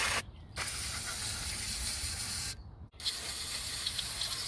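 Cleaner is sprayed onto John Deere mower parts in two long hissing bursts with a short pause between, close up, over a quieter background hiss.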